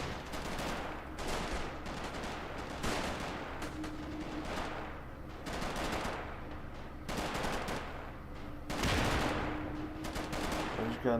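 Machine gun and rifle fire in a Robz Mod strategy video game, bursts of rapid gunshots and heavier blasts repeating across the scene at varied distances, loud and continuous.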